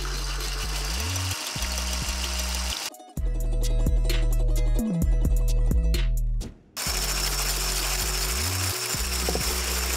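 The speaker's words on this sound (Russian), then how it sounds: "Приступаем к взбиванию белков. Опять же, как всегда, мы начинаем с маленькой скорости, и потом потихонечку мы увеличиваем" An electric mixer whips egg whites, its motor whine climbing in pitch through stepped speed increases, with two brief dips where the motor cuts out, loud and close.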